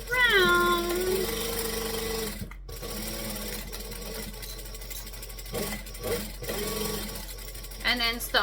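A domestic sewing machine stitches fabric with a steady close mechanical hum that runs through most of the clip, while a person talks over it and briefly pauses.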